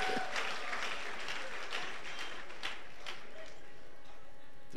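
A church congregation applauds steadily throughout in a dense, continuous wash of clapping, with faint voices mixed in.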